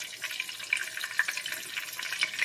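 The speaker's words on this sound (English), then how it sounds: "I'm going to sit you right here to enjoy this magic while I wash my hands real quick" Tap water runs steadily into a kitchen sink while hands are washed, a continuous soft splashing and trickling with small spatters, close and fairly quiet, no voices.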